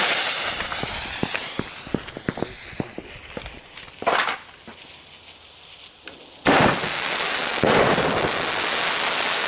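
A Comet Future Rocket Bombenrohr firework goes off outdoors: a rapid series of sharp crackling pops, then a louder burst near the middle and a heavy roaring blast that continues through the end.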